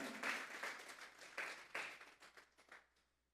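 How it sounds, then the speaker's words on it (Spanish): Church congregation clapping during an afternoon service, scattered bursts of hand claps rising and falling in waves, moderately near and fading out toward the end. "Vamos a darle una ofrenda de palmas a Dios en esta tarde"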